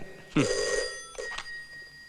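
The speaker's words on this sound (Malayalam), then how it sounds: "ആ ഫോൺ അറ്റൻഡ് ചെയ്യടോ." A telephone bell rings in two short bursts, a bright metallic trill with a brief gap, fairly close and clear.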